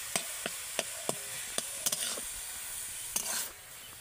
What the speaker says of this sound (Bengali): আর সব কিছু একসাথে ভালো করে এইভাবে আরেকটু আমি নেড়ে চেড়ে রান্না করে নেব।